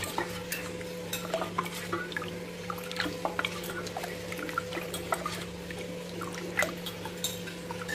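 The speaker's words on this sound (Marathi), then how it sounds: "हे जे आंबोळीच्या पिठाचं पाणी वर आलेलं आहे ते व्यवस्थित मिक्स करून घेऊया" Amboli batter of rice flour and water is stirred in a vessel, giving soft, repeated sloshing and scraping strokes, quiet and close, over a steady low electrical hum.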